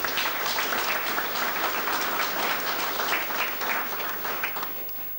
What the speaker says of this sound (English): they deserve a good round of applause